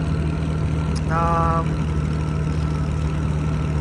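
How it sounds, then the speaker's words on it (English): A Massey Harris 92 combine's engine running steadily with a low, even drone close by, while a short spoken phrase cuts in briefly over it partway through. "Engine's running pretty good."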